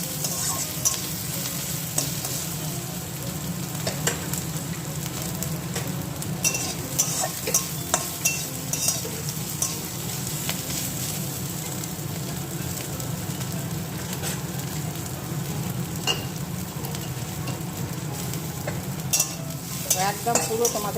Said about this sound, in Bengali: সুন্দর হয়ে গেছে ভাজা।